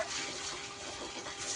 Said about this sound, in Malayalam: പൈപ്പിൽ വെള്ളം തുറന്നിട്ടിട്ടുണ്ട്, ബക്കറ്റിൽ വെള്ളം ആവട്ടെ